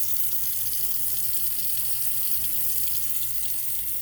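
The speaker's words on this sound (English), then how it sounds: "what you do is you run some hot water" A tap pours hot water into a sink, a constant near hiss and splash holding steady for a few seconds, alone with no talking.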